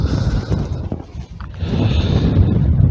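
Gusty wind on a Peak District hilltop buffets the microphone in low, rumbling surges that ease briefly midway, then strengthen again, loud and close.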